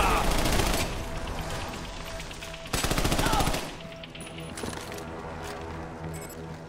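Crossfire in Army of Two, rapid machine-gun bursts loud and close at the start and again midway, easing into quieter scattered shots and clinking sounds afterward.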